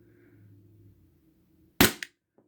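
A Glock 34 airsoft pistol fires a single sharp, loud pop after a quiet stretch, followed by a faint click moments later.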